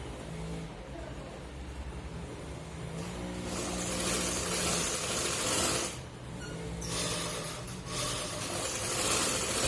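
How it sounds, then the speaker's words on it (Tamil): A sewing machine runs close and loud, stitching the shoulder seam of a 34-inch jacket, a steady whirring drone that briefly dips and resumes, with no talk over it. "ஷோல்டர் தைக்க போகிறாங்க"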